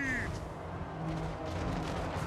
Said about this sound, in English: they can also shoot bombs and bombing things, including my own units, of course